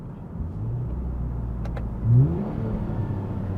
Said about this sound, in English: It rev matches.